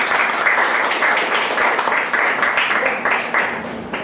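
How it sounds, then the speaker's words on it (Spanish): Warm applause from a conference audience greeting a speaker, a loud, steady wash of clapping with faint murmurs underneath, gradually thinning toward the end. "Esos aplausos creo que me suben un poco la moral."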